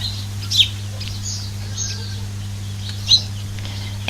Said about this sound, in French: Écoute les oiseaux.